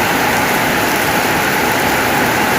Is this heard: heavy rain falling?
yes